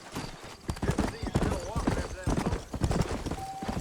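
In the video game Red Dead Redemption, a horse's hooves gallop in a quick, steady clip-clop rhythm, close and clear, while someone speaks over them.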